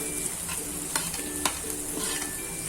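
Carrots stir-fry in a pan over a low flame, giving a constant bright sizzle with a few soft knocks from stirring, close and steady without talk.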